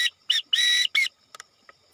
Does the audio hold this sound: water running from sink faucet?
no